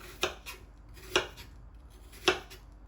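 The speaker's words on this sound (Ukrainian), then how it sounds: "І зараз так буду нарізати не тоненько, ну і не грубо." A knife chops through apples on a cutting board: three crisp, separate cuts at a slow, even pace, close by, with no talking.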